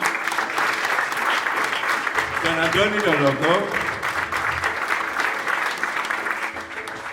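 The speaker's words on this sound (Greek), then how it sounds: "Ένα χειροκρότημα." A concert audience in Athens applauds performers with steady, sustained clapping throughout, while a voice speaks briefly over it through the middle.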